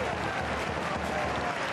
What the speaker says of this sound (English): Goalkeeper Juan Carlos gets a round of applause from the fans behind the goal